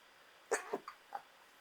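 A quick, stifled sneeze: a short sharp burst followed by two or three small muffled bursts, close by and fairly quiet.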